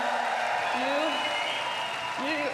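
A Belgian crowd at a BJK Cup Qualifiers tennis match applauds in a steady, dense wash of clapping that holds for the whole stretch, with a faint voice rising briefly over the noise.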